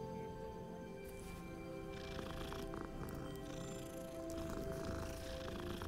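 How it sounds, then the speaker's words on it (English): A cat in the Hogwarts Legacy video game purrs steadily as it is petted, a continuous low rumble under faint game ambience and soft background sounds. "I see a cat, I pet."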